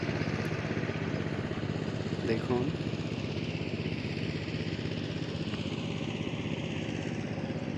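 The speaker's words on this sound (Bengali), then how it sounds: "ওই যে একটা পাওয়ার টিলার দেখা যাচ্ছে, ওটা হচ্ছে ACI 24 blade, 25 horse power engine আছে, জমি চাষ করতেছে" An ACI power tiller with a 25-horsepower engine and 24 blades ploughs a field, chugging steadily at a moderate distance. Someone speaks over the engine.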